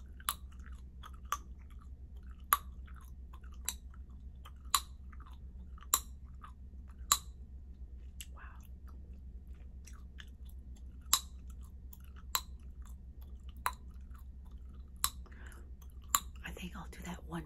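Starbucks gum chewed close to the mouth with soft wet smacking, punctuated by sharp isolated snaps every second or so across the span, quiet and intimate with a low steady background hum.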